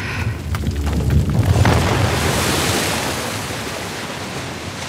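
In Uncharted: The Lost Legacy, water is released in the Western Ghats and surges out with a loud, booming roar that settles into a steady, dense rush.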